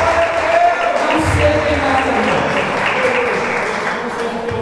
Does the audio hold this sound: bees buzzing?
no